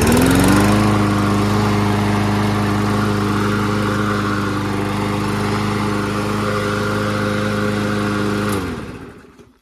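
A Troy Bilt TB110 push lawn mower engine starts and runs with a steady, loud droning hum, holding an even pitch for several seconds before being shut off and winding down.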